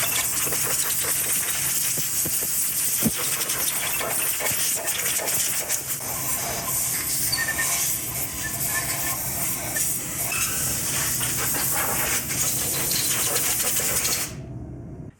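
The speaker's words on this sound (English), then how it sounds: "let's hit this with some compressed air and make sure we get all of the sandblasting debris off of this engine" A compressed air nozzle blasts sandblasting debris off an engine, a steady loud hiss that runs continuously with small fluctuations for about fourteen seconds, then cuts off abruptly.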